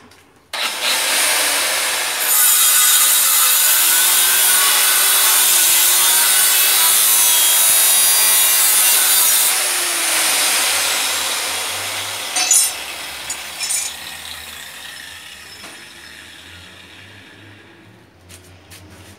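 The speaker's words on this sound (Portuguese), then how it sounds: "Deixa eu pegar a lixadeirona" A large angle grinder cuts through a metal part for a homemade minibike, a loud, steady high-pitched grinding whine lasting about ten seconds before the disc winds down into fading scraping and rattling as the cut ends.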